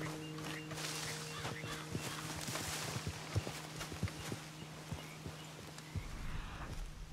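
In Red Dead Redemption 2, a horse clip-clops at a steady walk, the hoof beats clear and fairly close against a low ambient hum, with faint brief talk and no clear neigh.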